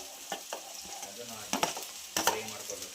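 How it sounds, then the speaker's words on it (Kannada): Onion and capsicum fry in a pan, a soft sizzle running underneath repeated clinks and scrapes of a spoon stirring against the metal, several sharper knocks spaced irregularly across the few seconds. "ಈಗ ನಾವು ಕ್ಯಾಪ್ಸಿಕಮ್ ಹಾಕ್ಕೋತಿದ್ದೀವಿ,"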